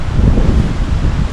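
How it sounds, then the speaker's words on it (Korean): Loud, gusty wind roars and buffets the microphone in a continuous low rumble, with no voices, at a campsite with tents in windy Yongdae-ri, South Korea. "바람이 조금 많이 불고 있어요."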